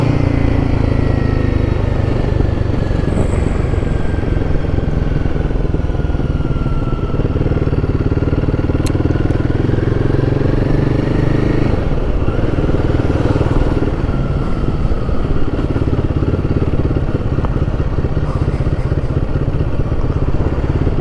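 Royal Enfield Guerrilla 450 motorcycle on the move, its engine droning loud and steady with wind rush, the pitch rising and falling gently as the rider changes speed, and no talk.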